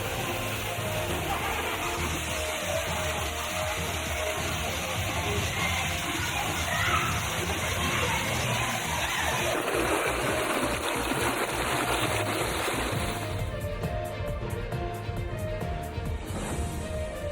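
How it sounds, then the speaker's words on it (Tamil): A waterfall inside Krishnapuram reserve forest near Courtallam gushes in full flow, a continuous broad roar of rushing water heard steadily throughout, with a slight change in tone toward the end. "இந்த அருவியில் தற்போது தண்ணீர் ஆர்ப்பரித்து கொட்டுகிறது"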